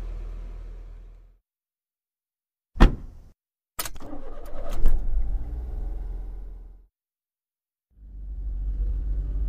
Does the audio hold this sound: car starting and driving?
yes